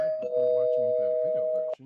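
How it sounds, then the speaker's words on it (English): A bell rings once with a clear, sustained ding that hangs for well over a second under someone talking, then cuts off sharply. "I'm going to just say spoiler and ring the bell real quick"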